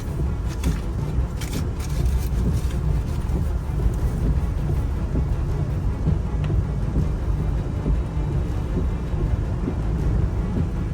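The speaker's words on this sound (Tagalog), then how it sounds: "Grabe ang ulan." Heavy rain pounds steadily during a flooding storm, a dense continuous roar with wind buffeting the microphone and low rumbles suggesting thunder, loud and unbroken throughout.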